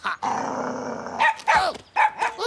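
An animated cartoon dog growls steadily, then lets out a few quick barks and yips, close and clear with no talk over it.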